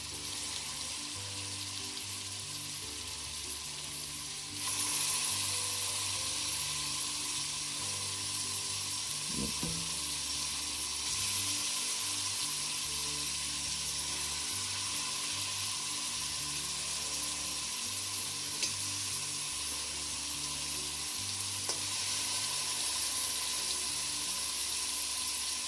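Seasoned goat meat for Jamaican curry goat frying in a pot, a steady loud sizzle running throughout with a brief clatter partway through.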